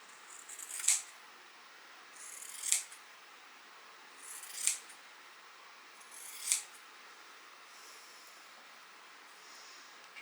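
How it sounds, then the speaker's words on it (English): Scissors snip through two layers of flannel shirt fabric in four crisp, evenly spaced cuts about two seconds apart, close and fairly quiet against a faint room hiss. "Then I'll go ahead and cut both layers."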